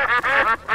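A cartoonish duck quack sound effect rings out three or four times in quick, nasal bursts, loud and close, with no voices over it.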